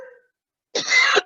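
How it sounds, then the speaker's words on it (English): A single harsh cough bursts out close and loud after a brief silence, during an officer training session. "All of a sudden now I've got a coughing fit."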